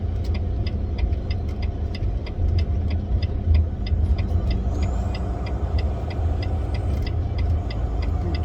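A pickup truck's engine rumbles steadily as it drives past, a continuous low drone with faint rhythmic ticking above it and no voices.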